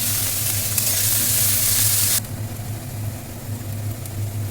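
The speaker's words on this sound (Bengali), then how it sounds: "পেঁয়াজটাকে একটু ভালো করে লাল লাল করে ভেজে নিতে হবে" Chopped onions and four or five chopped green chillies fry in a pan with a loud, bright sizzle that suddenly drops to a quieter simmer halfway through, over a low steady hum.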